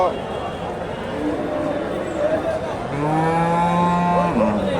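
Cattle lowing at a livestock market in Bogura, Bangladesh; a long, loud moo from Friesian bulls rises over a murmur of background voices and animal noise.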